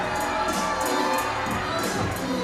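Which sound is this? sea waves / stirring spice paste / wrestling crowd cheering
wrestling crowd cheering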